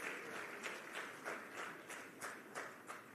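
Delegates at the ANC National General Council applaud in a large hall, a soft, distant wash of clapping with a faint rhythmic pulse running steadily throughout.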